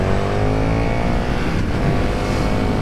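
A 2020 KTM Super Duke R motorcycle runs in sport mode, its engine droning loud and steady at speed with a continuous, close, rumbling tone and no voices.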